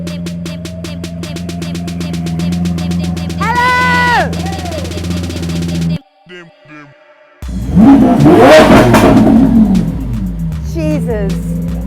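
A supercar revs hard inside a private garage, loud, roaring bursts that rise and fall after a stretch of music and a brief quiet pause, with background sound continuing around the engine noise.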